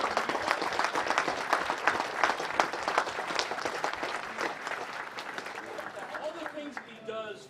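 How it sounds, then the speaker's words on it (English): A bowling tournament crowd gives a round of applause for bowler Parker Bohn III, individual claps distinct and lively, tapering off toward the end as a voice starts talking. "Let's have a little round of applause for Parker Bohn III"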